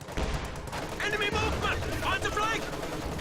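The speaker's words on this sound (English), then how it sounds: "MG34 blasting away at the other MG34" Two MG34 machine guns trading fire in Company of Heroes 2, a continuous rattling exchange of gunfire under a commentator's voice.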